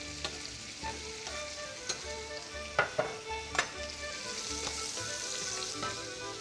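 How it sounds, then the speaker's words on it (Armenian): Potatoes sizzle with pieces of meat in a hot pan, a steady crackling fry broken by sharp scrapes and clinks of stirring, close and fairly loud with no one talking. "տապակենք մսի հետ գետնախնձորը,"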